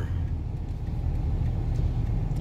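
Steady low rumble of road traffic on C5 Katipunan, heard from inside a Ford E150 3-ton truck in congestion, with continuous engine and roadway noise and no talking.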